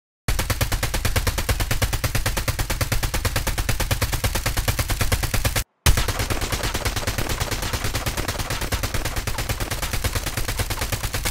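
Automatic hipfire gunfire in COD Mobile Battle Royale: a loud, steady rapid-fire stream of shots, broken by one short pause midway before firing resumes without letup.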